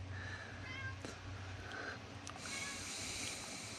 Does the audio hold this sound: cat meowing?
yes